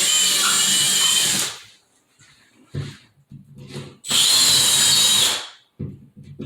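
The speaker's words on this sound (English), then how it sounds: "rather than switch the bit around, I'm just going to make the holes a little wider" Power drill widening screw holes in a wall for anchors, two loud sustained whirring bursts separated by quieter shuffling and clicks, heard up close.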